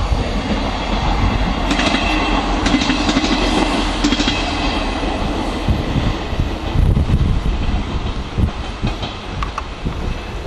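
An East Midlands passenger train unit passing near Werrington Junction, a loud rushing roar with rhythmic clickety-clack of wheels over rail joints and wind buffeting the microphone for the whole stretch.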